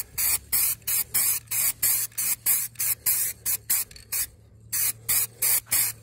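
Short rhythmic bursts of an aerosol spray can coating bare car body metal against rust, with a masked-off area, about twenty hissing pulses close up with brief gaps and one longer pause, over a steady low hum.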